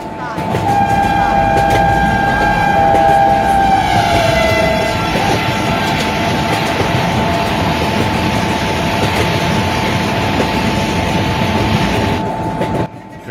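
Garib Rath Express of Indian Railways in the MSTS train simulator game: a loud, continuous rolling rumble with sustained horn tones over the first few seconds, running on steadily to the end.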